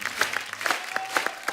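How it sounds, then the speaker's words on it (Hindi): A studio audience on a comedy talk show claps energetically for an arriving actor, with sharp, distinct hand claps close by over a crowd murmur. "जोरदार तालियां एक बार पंकज सर के लिए।"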